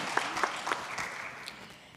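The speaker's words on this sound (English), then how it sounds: "One more round of applause for Blake Davidson." An audience at a Sunday church service applauds for Blake Davidson, a few distinct sharp claps standing out over a soft bed of clapping that thins and fades within two seconds.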